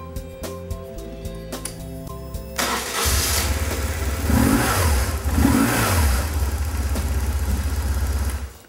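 A motorcycle engine cranks and catches, then settles into a loud, close rumble with a couple of revs rising and falling.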